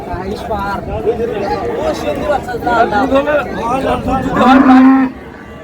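A dairy cow at a busy village cattle market in Dinajpur lets out a loud, drawn-out moo near the end, with people talking and bargaining close by throughout.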